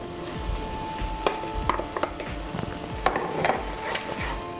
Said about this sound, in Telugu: ఈ 2 కలిపేసుకొని దీన్ని కూడా బాగా ఫ్రై చేసుకోవాలి